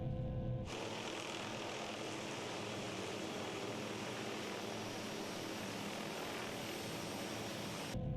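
A Shrike 530F helicopter in Microsoft Flight Simulator drones steadily and loudly, a dense, continuous rotor and turbine roar that holds for the whole stretch with no voices over it.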